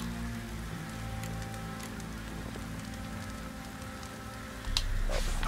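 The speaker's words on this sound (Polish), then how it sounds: "Deszcz." Constant rain in the video game The Witcher 3 patters and hisses on a surface, with a low steady hum beneath and a brief louder burst near the end.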